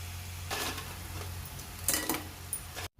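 Crabs going into a pan of cooking tomato, ginger and garlic masala, giving a couple of bursts of sizzling and clattering against the pan over a steady low hum, close and fairly quiet.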